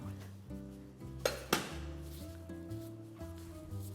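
A glass bowl clinks twice against a kitchen surface, sharp and close, while steady background music plays underneath.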